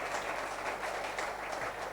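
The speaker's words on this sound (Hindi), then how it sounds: "आप सब लोग ताली बजा करके ऐसे कार्यकर्ताओं का अभिनंदन करें" A large crowd claps steadily and densely at an outdoor religious gathering in Bholanath Nagar, Delhi, honouring construction workers; the applause is a continuous, even roar with no voices over it.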